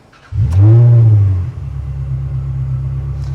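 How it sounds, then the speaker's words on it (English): A Ferrari 360 Modena Spyder engine with an aftermarket Remus exhaust revs sharply once, a loud aggressive rising snarl lasting about a second, then settles into a deep steady idle rumble. "it does sound maybe a little bit more aggressive than your standard stock Ferrari 360"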